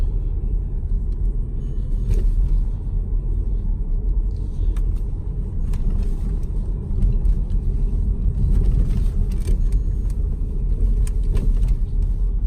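A 2008 Mercedes ML 320 CDI diesel 4x4 SUV driving on an unfinished, unpaved street in a new neighborhood, heard from inside as a steady low road rumble with faint engine hum and occasional light knocks, no talk.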